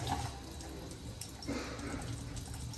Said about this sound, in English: We're gonna put it under cold water.